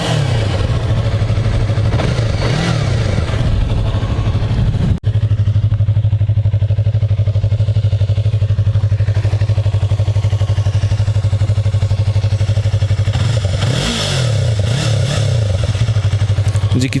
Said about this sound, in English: Let's go ahead and rev it to hear what it sounds like.